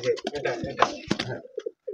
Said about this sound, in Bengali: কবুতর দেখলেন ভাই, বহুত কবুতর আছে